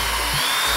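Power drill spinning a wool polishing pad on a car headlight during a heavy-duty restoration, giving a steady, loud motor whine that holds without pause for the whole moment.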